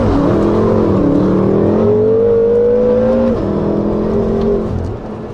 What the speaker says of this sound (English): It's loud, it's aggressive, turbo noises, pops, cracks, burbles, just a phenomenal exhaust tone.